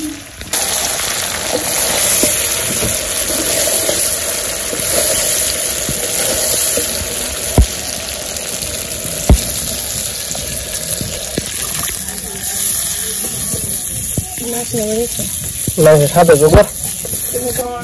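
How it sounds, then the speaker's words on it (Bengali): Chicken meat simmers and sizzles in a pan after water is poured in, producing a steady, close hiss of bubbling and frying throughout. Voices talk over it near the end. "আমার মাংসটা কষানো হয়ে গেছে, জল দিয়ে দিল"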